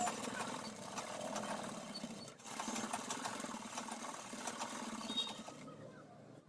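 A sewing machine runs steadily while lock-stitching a half pant, its dense continuous mechanical whir broken by a short pause near the middle and cutting off just before the end.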